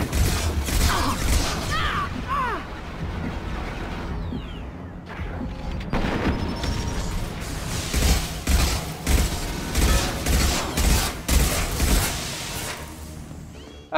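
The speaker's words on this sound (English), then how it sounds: "I'm going to have to go ahead and activate my disruptor ammo." Gunfire with disruptor ammo in Mass Effect 2 during a prison fight, bursts of sharp repeated shots with crashes and impacts, moderately loud amid other combat noise.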